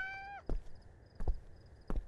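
A single short meow from a cat in the video game Mayonaka 10 Chome opens the clip, followed by three sharp, evenly spaced clicks or thumps with faint tones in between.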